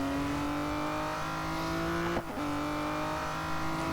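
Aston Martin V12 Speedster on a track day, its V12 engine holding a loud, steady high-revving drone with a brief dip at a gear change before pulling on again.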